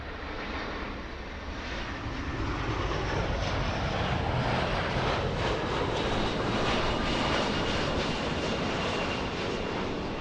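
A Delta Boeing 757 airliner arrives at LAX from Minneapolis with a loud, sustained jet engine roar that builds slightly and holds steady across the whole stretch, broad and close, with no voices.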